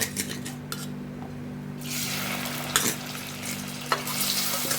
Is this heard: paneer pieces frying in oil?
yes